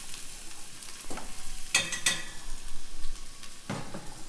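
Diced onion cooking in a pan, a soft continuous sizzle with a couple of bright metallic utensil taps and scrapes, close and moderately loud, no speech.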